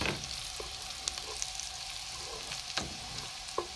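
Onions frying until brown for potato soup give a soft, continuous sizzle with occasional clicks and scrapes of stirring, fairly quiet and close.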